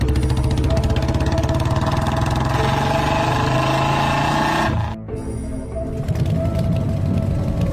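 Motorbike engine running loud and close, a rattling mechanical drone that briefly cuts out, then returns as the bike rides off.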